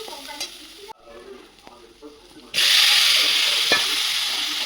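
Young jackfruit dropped into hot oil in a pan, a quiet stretch of faint clatter before a sudden loud, close burst of sizzling that holds steady to the end.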